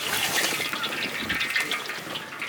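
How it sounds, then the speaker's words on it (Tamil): Water gushes in a steady, continuous pour for a couple of seconds into spiced mushroom 65 batter, close and fairly loud with no talking. "இப்போ இதில் கொஞ்சமாக தண்ணி சேர்த்துக்கப்போம்"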